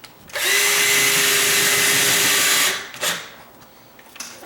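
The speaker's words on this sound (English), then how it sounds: "Once you use a drill long enough, you'll get a feel for what's going on." A power drill runs close and loud for about two and a half seconds, driving a longer screw into a sagging door's hinge, then a short follow-up buzz and quiet handling.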